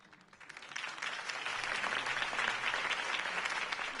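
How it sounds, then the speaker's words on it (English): A large crowd applauds steadily in a Batman video game, a dense wash of clapping that swells in the first second and stays loud and continuous to the end. "could have heard that applause"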